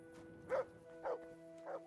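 Three short dog barks from Kingdom Come: Deliverance 2, spaced about half a second apart, moderately near over a faint steady hum and quiet ambience.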